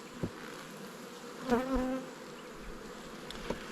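Honey bees buzz around an opened hive in spring, a steady faint drone with brief louder passes, one bee flying close by in the middle of the stretch.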